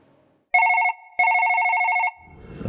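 A telephone rings with a loud electronic warbling tone, two bursts close by, a short one followed by a longer one, then a rising rustle.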